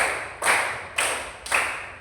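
A class of pupils claps in unison during an icebreaker counting game, giving three crisp, evenly spaced claps that ring briefly in the room, near and clear with no talk.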